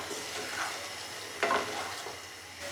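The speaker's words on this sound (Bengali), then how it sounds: "বাঁধাকপির পাকোড়া বানাচ্ছি।" Cabbage pakora frying in hot oil, with a steady sizzle throughout and a brief louder crackle midway, no voices over it.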